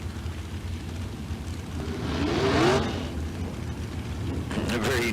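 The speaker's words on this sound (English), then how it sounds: "A very unique dragster. I love the front end. I love the old nostalgic dragsters." A nostalgic dragster runs down the Tucson Dragway strip, its engine rising to a whining surge and then fading, heard moderately loud under crowd and track ambience with a voice in the mix.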